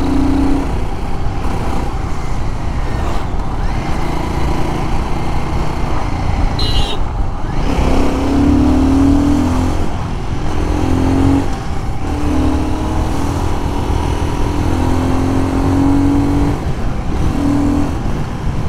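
A Royal Enfield Guerrilla 450 motorcycle on the move, its engine droning loudly and rising through repeated accelerations with gear changes, recorded close with wind and road noise throughout.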